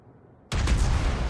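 Ship artillery salvo in World of Warships, a sudden loud booming blast after a brief quiet lull, followed by a sustained heavy rumble.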